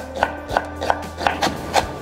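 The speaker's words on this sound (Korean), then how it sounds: "일단 절반을 이렇게 브루누아 컷을 먼저 해주겠습니다." Knife finely chopping onion into a brunoise on a cutting board for a cream-sauce meatball dish: six evenly spaced, crisp close taps about a third of a second apart, with no talking.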